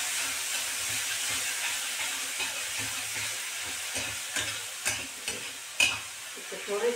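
Ground tomato paste stir-fries in a pan with a continuous close sizzle and hiss, then a few sharper scrapes and clacks of a spoon stirring toward the end.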